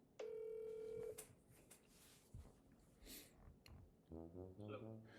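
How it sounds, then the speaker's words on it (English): A cell phone dials out for a call, with a steady tone about a second long, then clicks and faint handling sounds, and a rapid pulsing ring or dialing pattern near the end. "So I'm going to call this person and see if I can make them a deal."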